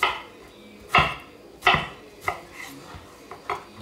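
Knife cutting fresh strawberries into large quarters and cubes on a board, several distinct chops spaced irregularly, close and fairly loud, with quieter taps between, no talking.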